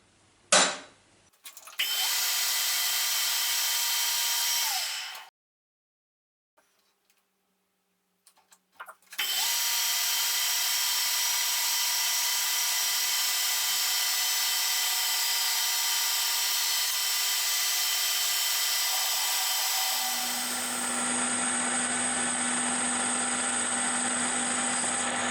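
A drilling machine being adapted in a metal workshop whines loudly and steadily in several long runs. A silent gap separates two bursts, and the pitch and tone shift during the final stretch.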